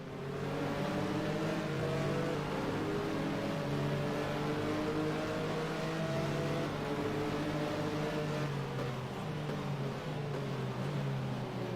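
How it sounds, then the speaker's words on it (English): A Porsche racing car engine in a driving game drones steadily with shifting revs, the note sagging and sputtering as it coughs on downshifts. "Sounds like the Porsche's coughing on the downshifts."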